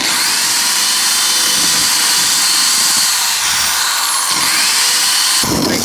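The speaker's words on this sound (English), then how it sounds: "you can actually grind this open a little bit more with a grinding bit on a hand drill" A loud, continuous high-pitched grinding whine from a hand drill with a grinding bit on the metal of a DeLorean's bulkhead, steady throughout with slight shifts in pitch.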